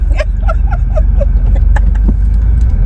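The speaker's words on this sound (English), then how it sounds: "we are in the car" Inside a moving car, a low steady engine and road rumble fills the cabin, with a few short tonal chirps near the start and no clear speech.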